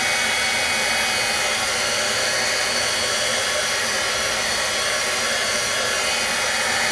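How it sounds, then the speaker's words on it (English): Heat tool blowing hot air to heat set ink on a Tim Holtz non-stick craft sheet, a loud, steady close-up whoosh of fan and airflow running unbroken throughout. "So I'm going to come in here and I'm going to heat set that."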